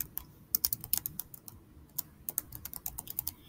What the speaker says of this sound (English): Then I'm going to put a colon and type in writing portfolio.